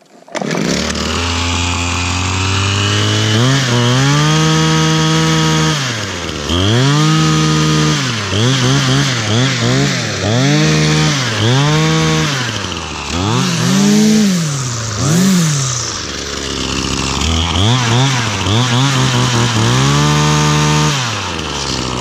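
A Husqvarna 525 string trimmer running close by, its two-stroke engine loud and buzzing, repeatedly revving up and dropping back in rhythmic surges across the whole stretch.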